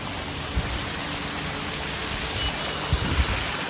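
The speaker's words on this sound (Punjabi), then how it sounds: "ਕਿੰਨੀ ਤੇਜ਼ੀ ਨਾਲ ਪਾਣੀ ਜਾ ਰਿਹਾ ਦੇਖੋ ਜੀ ਸਪੀਡ ਦੇਖੋ ਪਾਣੀ ਦੀ" Fast-flowing floodwater in Jalandhar, Punjab gives a steady broadband rushing wash throughout, with a few faint low thumps and no voices.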